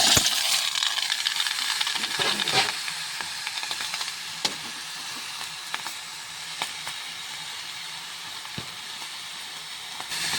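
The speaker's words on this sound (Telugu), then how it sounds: "ఇప్పుడు బగోన పెట్టుకొని టమాటాలు వేసుకున్నాం." Tomatoes frying in oil in a cooking pot, a steady close sizzle and hiss with occasional clinks and stirring scrapes, moderately loud with no talking.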